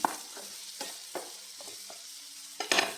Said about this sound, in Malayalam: നല്ല മുകളിലൊന്ന് വഴറ്റിയെടുക്കണം